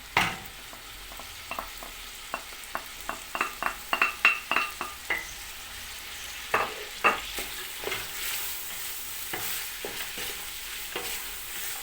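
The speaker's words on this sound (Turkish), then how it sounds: "Kapya biberleri de kavuruyorum." Red kapya peppers sauté in a pan for a vegetable pea stew, a soft background sizzle punctuated by a quick run of sharp spatula taps and scrapes, then a few slower stirs, close and fairly quiet, no talking.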